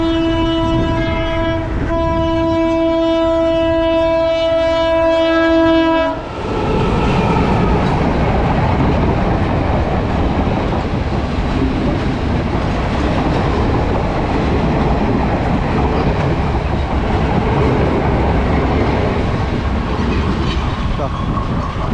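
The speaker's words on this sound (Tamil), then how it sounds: "இங்கேருந்து பார்த்தீங்கன்னா கொழும்புக்கு ரயின் போகுது பாருங்கள்" A loud train horn blares for several seconds, then a Colombo-to-Batticaloa train rumbles past nearby in Colombo, Sri Lanka, after rain, with steady rattling and clatter of wheels on rails.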